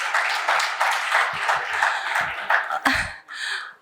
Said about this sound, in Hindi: बजा सकते हो तालियां।